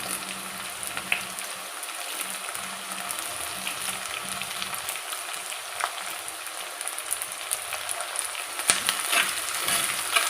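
Crushed ginger, garlic and curry leaves frying in hot coconut oil with mustard seeds for a pomfret fish curry, a steady, close hiss and crackle that runs unbroken for about ten seconds with no voices.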